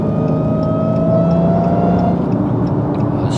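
A manual Dodge Hellcat fitted with a Legmaker intake cruises in traffic, its supercharger whine a steady high-pitched tone over a continuous engine drone heard from inside the car.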